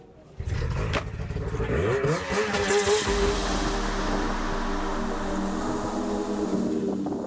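Snowcross snowmobiles racing at a world championship round in Trondheim, Norway, engines roaring loud and sustained from a starting burst, with rising revs and a deep rumble throughout.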